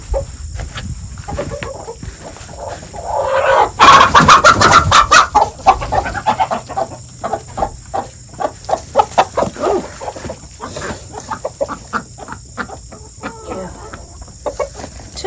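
Chickens cluck and squawk nearby on a homestead, a burst of agitated flapping and calling early on, then scattered clucks and pecking sounds continue over a faint steady hum.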